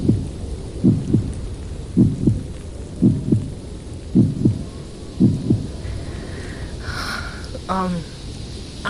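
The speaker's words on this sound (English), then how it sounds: "I can feel your heartbeats." Rhythmic double-thump heartbeat, low and close, beating steadily about once per second in an ASMR roleplay of a hug on a winter trip, with a brief breathy sound near the end.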